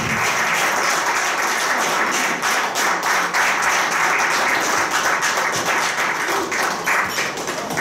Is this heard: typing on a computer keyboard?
no